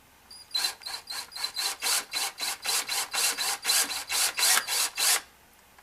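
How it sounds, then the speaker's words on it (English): A power drill bores through carpet, making about sixteen rhythmic rasping bursts close by. The bursts repeat evenly before stopping abruptly. "I'm going to go ahead and just take my drill"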